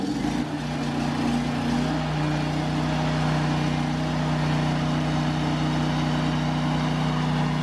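Welding generator engine running at a steady hum, a loud continuous low drone with a constant tonal whine throughout.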